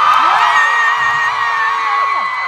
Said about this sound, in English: Why are you cheering about that?